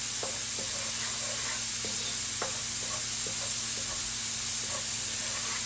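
Chili and turmeric powder sizzle in a hot pan for pumpkin curry with black lentils, a steady close hiss with faint scattered crackles and a low background hum, with no talking.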